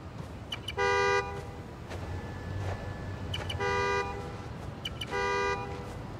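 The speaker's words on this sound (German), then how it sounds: "Ich muss hinhören und dem Hupen folgen." A car horn in Spider-Man: Miles Morales toots in three short repeated bursts, spaced a couple of seconds apart, over a low rumbling engine-like background.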